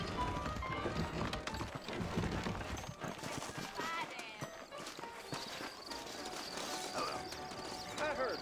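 Horses' hooves clopping at a quick pace in Red Dead Redemption beneath layered game music and effects, with voices speaking intermittently.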